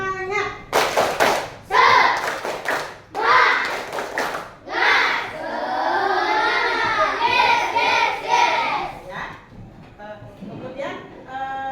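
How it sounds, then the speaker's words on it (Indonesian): Schoolchildren in a Catholic religious education classroom do a rhythmic spirit clap, with sharp bursts of clapping in patterned groups, then a long shouted chant in unison, close and loud. "kalian tepuk semangat dulu, biar semangat gitu ya"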